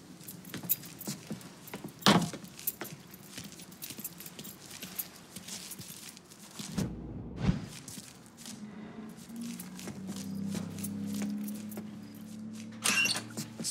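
Keys jangle sharply in a close grab as a truck's keys are picked up in the Mafia 3 video game, followed by footsteps, a door and a low engine-like hum, with a second jingle near the end.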